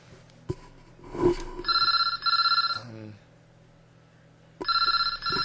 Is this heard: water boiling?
no